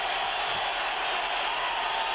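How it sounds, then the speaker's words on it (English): A home basketball crowd at the Pit roars continuously in a dense, loud wash of cheering and applause with no break, heard from within the arena. "Listen to the pit crowd erupt now"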